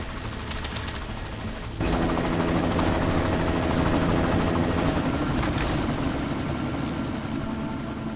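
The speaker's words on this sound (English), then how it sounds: "You've got to stop that chopper." A helicopter in the video game Deus Ex: Mankind Divided, its rotor roar swelling in loud and steady after a brief quieter opening, with rapid gunfire bursts crackling over it.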